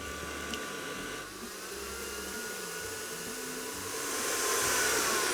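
A stand mixer whirs steadily as it beats margarine, agave and yogurt together for a birthday cake batter, a constant close motor drone with a high whine that grows slightly louder toward the end, with no talking.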